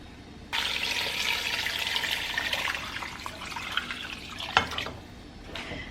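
Water pours from a tap into a pot holding conch, ginger and garlic, a sudden bright rushing stream that runs for about four seconds before cutting off, followed by a few drips.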